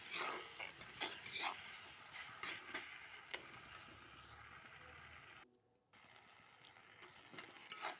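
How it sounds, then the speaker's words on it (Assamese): Ginger and garlic fry with half-cooked tomatoes in a new iron kadai, with a soft steady hiss broken by sharp metallic scrapes and clacks from stirring, close and fairly quiet. "আৰু আদা নহৰুখিনি দিও এতিয়া মই ভালদৰে ভাজি ল'ম।"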